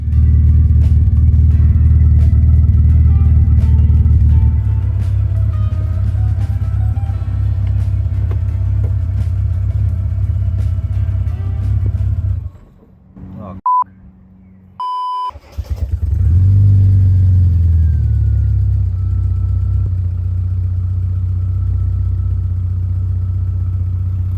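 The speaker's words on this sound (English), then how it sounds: "The engine seems to run well, and it even sounds pretty good from the back." A classic Mini engine idles steadily with a low, even rumble, briefly cutting out near the middle before starting up again and settling back into a running drone.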